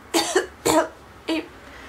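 Three separate coughs, close and sharp: two in quick succession, then a short pause and a third, softer one.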